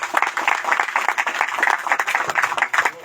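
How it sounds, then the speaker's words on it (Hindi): Audience applause in a church, a dense wash of many hands clapping steadily throughout at moderate loudness with no speech over it. "आइए ताली बजाते हैं"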